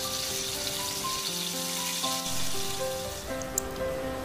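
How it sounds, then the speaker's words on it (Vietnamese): Mackerel scad sizzling in a frying pan before being braised: a steady, close crackling hiss that runs through the whole stretch, with faint tonal sounds in the background. "Các bạn nên nhớ cá chúng ta chỉ chiên sơ nhé."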